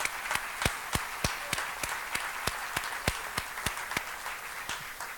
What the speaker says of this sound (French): on doit l'applaudir